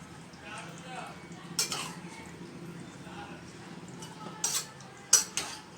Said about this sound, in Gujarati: એમાં ધાણા ઉમેરી અને ફરીથી આપણે બધું મિક્સ કરી લઈશું.